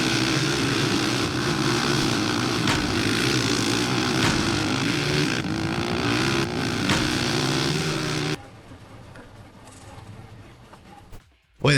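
ATV engine in the racing game ATV Offroad Fury 2 drones loudly and steadily with rough revving texture for about eight seconds, then drops to a quieter muffled rumble before a brief burst at the end.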